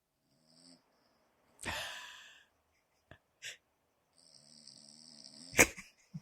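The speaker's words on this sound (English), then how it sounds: "this is some audio of him snoring" A dog snores through a played-back recording, with a few scattered breathy snorts and one harsh wheezing inhale standing out, quiet and sparse against near silence.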